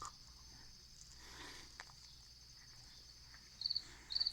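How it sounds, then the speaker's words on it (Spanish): Crickets chirp at night in a steady high trill under faint background hiss, with a few louder close chirps near the end. "¿Ves grillos?"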